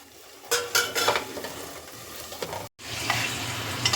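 Cauliflower filling for paratha stirs and sizzles in a pan on low flame, with soft scraping and clinking of a utensil and a gentle continuous frying hiss, and no voices.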